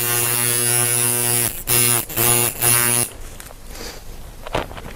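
A machine running while being rinsed clean, giving a steady electric hum and buzz that cuts in and out in short bursts before dropping away to quieter noise.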